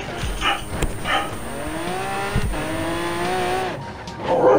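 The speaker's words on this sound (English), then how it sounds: "Sorry if you guys just heard my dog, because he was barking" A dog barks a few times near the microphone over racing game engine noise and tire squeal, sharp bursts spaced across the stretch.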